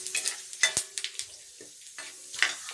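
Black cumin, cumin and bay leaf hit hot oil while cooking masoor dal with drumsticks, giving a steady close sizzle with a few clinks and stirring scrapes of a utensil.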